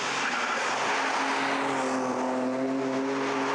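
A Ferrari 355, a Porsche and a Honda NSX battle closely on a racetrack, engines droning steadily at high revs with clear harmonic whine, loud and continuous with no voices.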